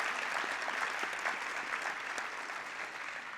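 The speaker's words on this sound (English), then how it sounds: "Big round of applause." A crowd at a school competition prize announcement claps steadily in sustained applause, a dense, even patter of many hands with no pauses.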